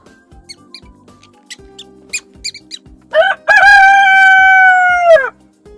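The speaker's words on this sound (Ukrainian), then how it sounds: "Правильно, це півник та мишенята." A scattering of tiny high squeaks like mice, then a rooster crows loudly in one long sustained call that ends abruptly.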